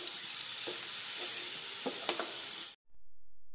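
Coconut ladoo mixture with cardamom powder is stirred in a pan over a soft continuous sizzle, with a few spoon scrapes and taps near the microphone before it cuts to near silence.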